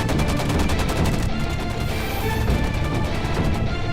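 Dense, continuous rapid gunfire rattles throughout an action movie scene, loud and close, with sharp repeated bursts and no pauses or voices.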